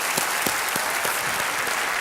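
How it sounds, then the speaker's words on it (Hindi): A studio audience at the Hindi quiz show Kaun Banega Crorepati applauds steadily, a dense, loud wash of many hands clapping that fills the whole clip without a break. "तालियों के साथ इनका अभिनंदन।"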